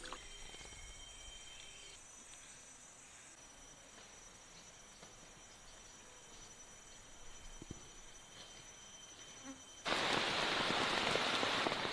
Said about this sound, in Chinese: 一大早上起来就在下雨